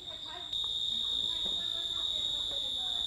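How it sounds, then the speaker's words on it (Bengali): Crickets trill from all around a rural Bangladeshi farm field planted with brinjal. A steady, high, shrill drone swells in after a moment and carries on with faint scattered background noises. "চারিদিক থেকে ঝিঝি পোকার ডাক শোনা যাচ্ছে"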